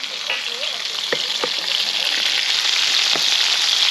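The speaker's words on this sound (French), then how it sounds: "Là, on va attaquer le poisson." Fish frying in a pan with squid rings and shrimp nearby, a steady close, loud sizzle running throughout, broken by several sharp scraping stirs of a utensil.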